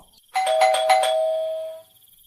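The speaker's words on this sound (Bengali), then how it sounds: "হঠাৎ কলিং বেলটা বেজে উঠল" A single electronic doorbell chime rings out clearly, a bright two-tone ding that lasts just over a second and fades, with quiet before and after.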